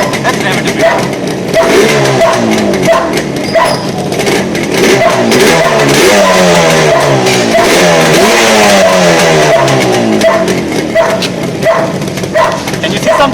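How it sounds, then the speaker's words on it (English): Loud, close Yamaha RD350 motorcycle engine revving repeatedly in rising and falling bursts over a steady running note, with a dog barking and people talking intermittently alongside. "Let's rev it a bit."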